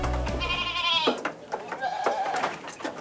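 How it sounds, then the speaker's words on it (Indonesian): Goats being fed on a farm let out a long loud bleat near the start, then quieter bleats and shuffling follow while people speak in the background. "ini ngasih makan ini kambing kita, Pak ya?"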